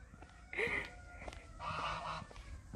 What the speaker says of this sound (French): il y a des oies à côté